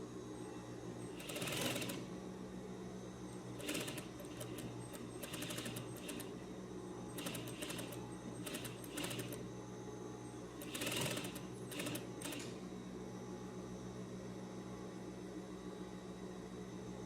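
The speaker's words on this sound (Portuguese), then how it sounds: "Eu vou ligar a máquina de costura" A sewing machine stitches darts on a tailored vest in repeated bursts, a fast, rhythmic mechanical whirring that starts and stops several times against steady background hiss, close and clear.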